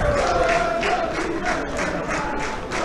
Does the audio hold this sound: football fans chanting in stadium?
yes